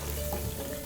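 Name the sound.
chicken deep frying in oil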